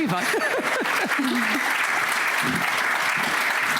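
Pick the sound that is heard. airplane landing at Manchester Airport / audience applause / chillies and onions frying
audience applause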